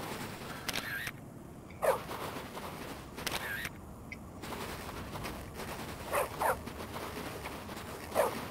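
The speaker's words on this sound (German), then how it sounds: "Diese blöden Köter, ey." Dogs barking in Bully: Scholarship Edition, a few sharp bark bursts scattered through the clip over steady game ambience, with no talk.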